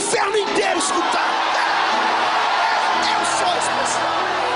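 An Assembleia de Deus church congregation lets out a loud, sustained collective shout that fills the room as a dense roar of many voices, with scattered whoops rising above it.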